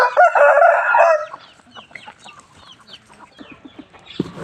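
Chickens at a temple in Chae Hom, Lampang, cluck and squawk loudly while waiting to be fed, with a dense burst of calls at first, then scattered nearby clucks and chirps.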